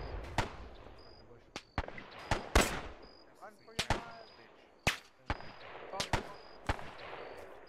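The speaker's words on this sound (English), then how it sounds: "I see you hear shots to our right, Fritz." Scattered gunfire in the WWII shooter Brothers in Arms, sharp single shots and short bursts cracking at irregular intervals, some near and loud, others more distant.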